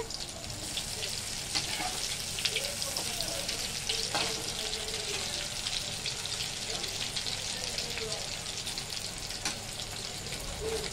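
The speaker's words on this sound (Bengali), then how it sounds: "দুদিকটা এরকম ভেজে নেব।" Chicken keema pakoras fry in hot oil in a wok, a loud, continuous bubbling sizzle with occasional clinks and scrapes of turning.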